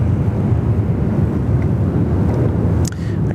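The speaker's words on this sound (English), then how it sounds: "we've got the Xiamen Air Dreamliner" Steady broadband jet engine roar from a Xiamen Air Boeing 787 Dreamliner on the runway at Sydney Airport, loud and continuous with a slight drop near the end, no voices.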